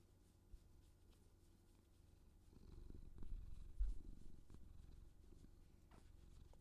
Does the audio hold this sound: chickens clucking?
no